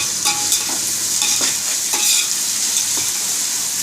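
Onions sizzle and crackle in a hot pan with a little rock salt, being stirred for a chicken biryani, with steady frying hiss and repeated scraping stirs close by.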